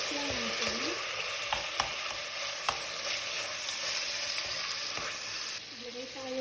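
Pork meat stirred in a pot for a boiled pork dish, steady frying hiss with occasional spoon clinks against the pot, a brief faint tone in the background.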